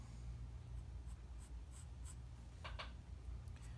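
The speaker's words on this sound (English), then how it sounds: "So we're gonna start by adding some white pencil to this," A white pencil scratches across paper while texturing a drawn wooden ellipsoid, giving a series of short, quiet, close strokes in an irregular rhythm over a low steady hum, with no talk.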